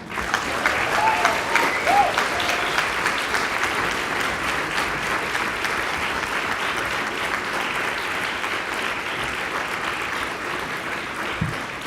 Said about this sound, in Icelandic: mig langar að biðja ykkur að klappa fyrir þessu fólki